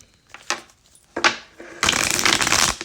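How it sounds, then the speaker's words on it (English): Tarot cards being shuffled by hand: two short riffling bursts, then a longer, louder, dense run of papery flutter lasting about a second, close up with no talking. "One more shuffle."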